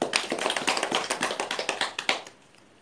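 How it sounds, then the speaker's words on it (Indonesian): A small group of women clap together at the end of an online training session on mapping personal, family and community abilities, a brisk run of close, uneven hand claps that stops abruptly. "Terima kasih Bu, tepuk tangan dulu."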